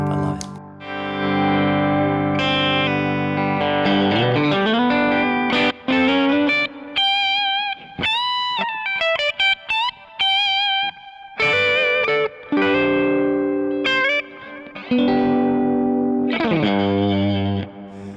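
A Fender Stratocaster Ultra II electric guitar plays a clean, chimey melodic phrase through a delay effect, notes ringing and repeating with echoes, loud and close with no talking.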